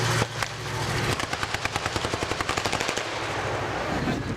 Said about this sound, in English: looks like the Germans are laying down some mortar fire.